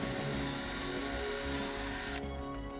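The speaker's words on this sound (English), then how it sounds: "Drill holes in each corner of the frame" A power drill boring holes in the corners of a window frame runs continuously at high speed, loud and close, its whine dropping near the end as it slows.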